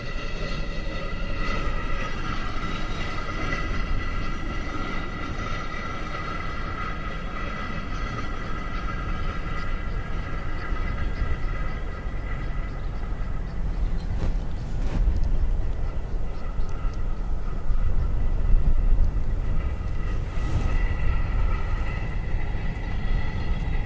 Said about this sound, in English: It's probably that Chinook.